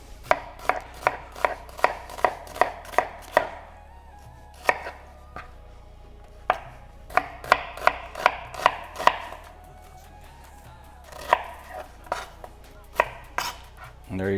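Potatoes chopped with a knife on a cutting board for a breakfast dish: bursts of rapid, crisp knocks close by, pausing briefly between runs, with no talking.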